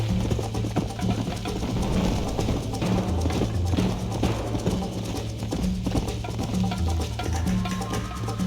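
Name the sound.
horse hooves clip-clopping in video game Red Dead Redemption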